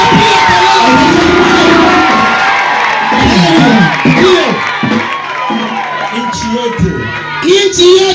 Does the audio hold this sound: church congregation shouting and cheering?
yes